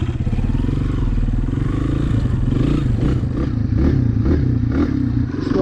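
A Honda CRF230 dirt bike with a bogging, stalling fault idles while warming up, a close, steady single-cylinder putter with slight uneven pulses and rattly clatter, no talk over it.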